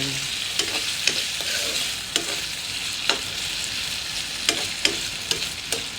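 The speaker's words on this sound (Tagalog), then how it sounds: "Halu-haluin natin yan kasi dumidikit siya sa may non-stick kawali." Potatoes fry in an old, worn non-stick pan with a steady loud sizzle, while a utensil stirs and scrapes them in sharp clicks at irregular intervals.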